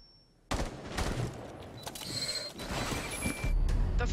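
Rapid gunfire from a video game weapon, dense bursts of shots with mechanical clatter that start abruptly and keep going loud and close, with no talking over them.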